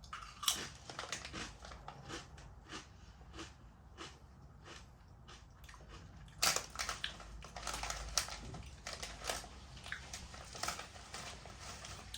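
Crunching Lorenz Crunchips roasted spare ribs flavour crisps, with a steady run of close, crisp bites and chews, a denser burst of crunching midway, and no talk.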